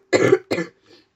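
A person who is ill coughs twice in quick succession, harsh and close, followed by a faint throat-clearing rasp.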